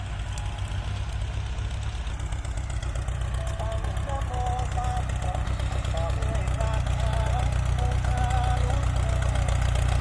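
A heavy diesel tractor engine, a large plough tractor model 6640, rumbles steadily with a low knocking throb, close and continuous, while someone talks over it.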